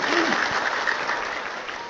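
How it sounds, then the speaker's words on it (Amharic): An audience at a church gathering breaks into a dense burst of clapping that fills the space evenly, with a brief voice near the start. "አጨብጭቡና ገለጹ።"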